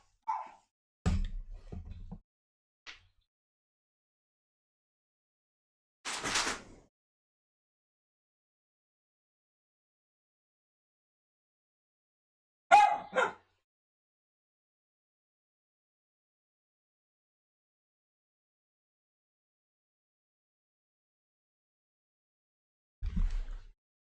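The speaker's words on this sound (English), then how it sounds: "give me 1 second to see why this dog is barking" A dog barks indoors in a few short, separated bursts, with long stretches of near silence between them.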